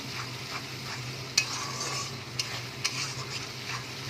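Onion and ginger-garlic paste sautéed in a pan for prawn malaikari, a soft continuous sizzle with a few sharp scraping clicks of a spatula against the pan, close and alone without speech.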